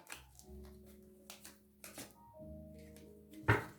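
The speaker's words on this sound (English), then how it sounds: "let's shuffle up a little bit here" Tarot cards being shuffled by hand in quiet bursts of soft riffling and tapping over faint background music, ending with a sharper snap of cards.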